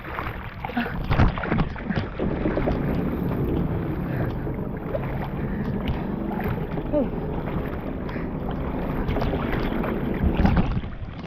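Loud, continuous rushing of wind and water with engine-like rumble from a water bike moving over the Bay of Bengal about a kilometre offshore, steady throughout.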